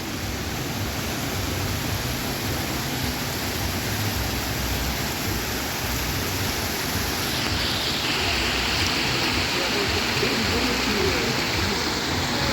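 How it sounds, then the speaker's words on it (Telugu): The Merlion water fountain in Singapore splashes in a constant, dense roar of falling water, steady and fairly loud throughout with no clear voices above it. "ఇక్కడ వాటర్ చూసిండ్రా, ఇక్కడ వాటర్ ఫౌంటైన్"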